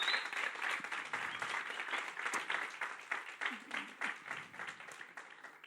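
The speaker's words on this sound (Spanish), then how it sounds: "Dar un aplauso al Señor." Congregation applauding during a church service, a steady wash of many hands clapping close by for several seconds, with some voices mixed in beneath the clapping.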